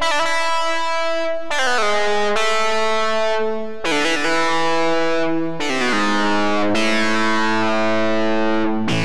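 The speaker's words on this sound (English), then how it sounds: "that's how you get that wow, wow, wow, wow sound" Audible Instruments Warp module in a modular synth, producing a series of sustained, buzzy distorted tones whose envelope-swept filter opens and closes with each new note, giving a rhythmic wow-wow character, loud and alone.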